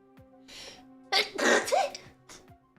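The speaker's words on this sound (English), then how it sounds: "I'm gonna sneeze." One close, forceful sneeze after a short sharp intake of breath, trailing off into a breathy exhale.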